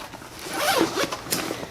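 A zipper is pulled in one quick, close rasping stroke, a short scratchy sound heard alone.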